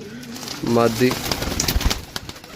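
Pigeons coo in low, throaty bursts close by, with some rustling and faint background noise between calls.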